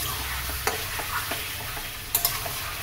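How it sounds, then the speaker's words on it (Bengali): Chicken sizzles steadily in a pan as it fries in its own released water, with a constant crackling hiss broken by occasional clicks and scrapes of stirring. "তো 3 মিনিট ভাজার পরে একবার খুলে দিয়ে ঢাকনাটা আমি একটু ভালো করে আবার নেড়ে দেবো"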